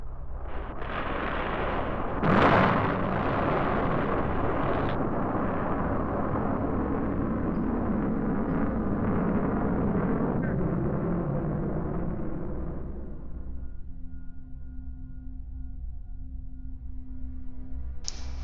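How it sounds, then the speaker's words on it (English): Escape rocket pulling a spacecraft capsule away from an Atlas booster, a loud roaring rumble with a sharp burst near the start that sustains for about twelve seconds, then fades into a steady low hum. "The escape rocket takes the capsule away from the booster."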